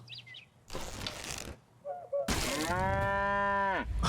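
A cow in the medieval farming game Medieval Dynasty lets out a long, loud, close moo with a rich harmonic tone, preceded by shorter rustling noises and a brief lower grunt.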